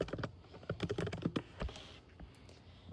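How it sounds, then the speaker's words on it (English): Someone types on a computer keyboard in a quick burst of close, crisp key clicks, then a few scattered taps that trail off. "right here you can type in Quiz Template."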